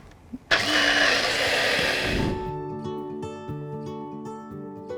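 A blender whirs loudly as it blitzes ginger, green chili and salt, starting with a click and a roaring surge, then settling into a steady motor hum that keeps running to the end.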